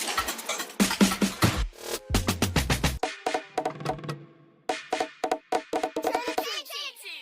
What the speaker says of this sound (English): So what I did next was to throw in some FXs and drum fills,